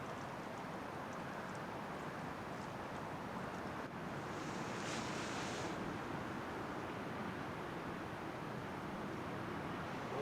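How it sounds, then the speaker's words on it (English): Calm ocean surf washing onto a sandy beach on the north coast of Olympic National Park, a steady, continuous roar of waves with some wind, no voices. "Calm ocean."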